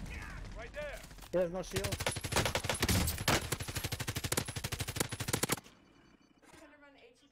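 Call of Duty gunfire: rapid automatic bursts fire in a dense, loud run for several seconds, then cut off abruptly into quieter game sounds, with voices talking briefly before the shooting starts.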